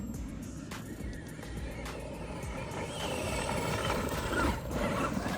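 Two Traxxas Funco RC sand cars with high gearing race side by side, a steady loud electric-motor whine and gravelly rumble that builds slightly toward the end, with brief tire scuffs and no talking.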